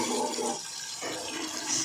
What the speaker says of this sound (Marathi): आता याच्यामध्ये गरम पाणी घालून घेते